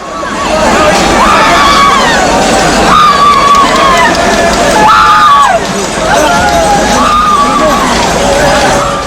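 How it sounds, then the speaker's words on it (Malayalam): A dense crowd roars and cheers continuously at the Kodungallur Bharani temple festival during Kavutheendal, with loud overlapping shouts and rising whoops swelling in waves. "ദാരികനെ ഭദ്രകാളി വധിച്ച സന്തോഷ വാർത്തയറിഞ്ഞ ജനം ആർപ്പുവിളിച്ചു"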